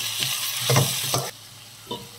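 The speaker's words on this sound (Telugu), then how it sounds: "మూత పెట్టి మీడియంలో ఫ్రై చేసుకుందాం." Shrimp with turmeric and salt fry in a pan, sizzling loudly under a few close scraping stirs. The sound then suddenly drops to a quieter hiss, and a single clink follows.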